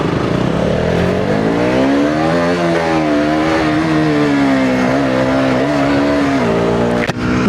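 KTM Duke motorcycle accelerating hard, its engine note climbing and shifting through strong rising harmonics, loud and close throughout, with a brief drop near the end.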